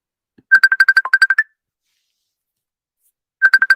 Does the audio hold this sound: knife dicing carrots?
no